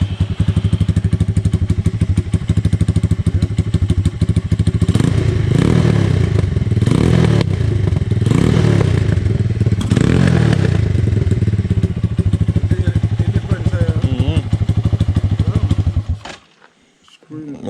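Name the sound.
motorcycle engine running at a mechanic's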